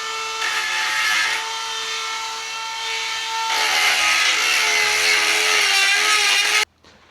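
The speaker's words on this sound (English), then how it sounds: "he's Dremeling that down right now" A Dremel rotary tool cuts down a brake part for a Mk4 Toyota Supra big brake installation, a loud high-pitched grinding whine that shifts in pitch as it bites, then cuts off abruptly near the end.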